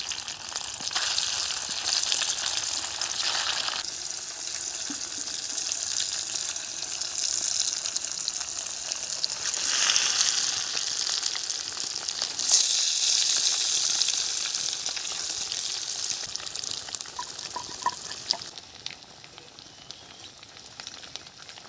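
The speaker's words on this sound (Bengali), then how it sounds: "তেল গরম হয়ে গেছে তেলে একটু হলুদ দিয়ে দিলাম হলুদ দিয়ে এক এক করে আমি ডিমগুলোকে তুলে দিচ্ছি" Steady, loud sizzling and crackling of duck eggs frying in hot oil with turmeric, continuous throughout with slight surges, easing off near the end.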